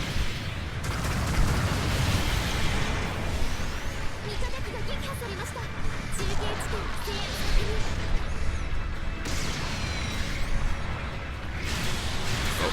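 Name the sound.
wrist rockets firing and exploding in Gundam Battle Operation 2 video game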